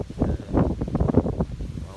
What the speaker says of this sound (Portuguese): Está muito vento. Está mesmo muito vento.